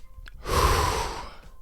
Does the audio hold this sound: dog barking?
no